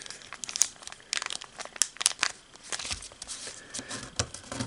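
Origami paper is folded and creased by hand, giving close, irregular crinkling and crackling with scattered sharper rustles.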